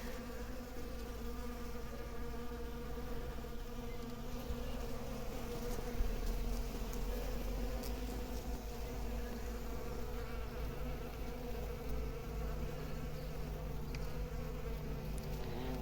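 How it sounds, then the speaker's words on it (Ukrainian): Many bees buzz among squill flowers in a spring garden, a continuous layered drone of overlapping wingbeats close by and steady throughout, with no talk. "На підсніжниках немає, на пролісках дуже багато бджіл."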